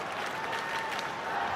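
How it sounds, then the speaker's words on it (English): At a Chicago White Sox versus Tampa Bay Rays baseball game, a stadium crowd claps and cheers after a catch, a steady, dense wash of applause with no clear voices. "cheering on the youngster who made the catch"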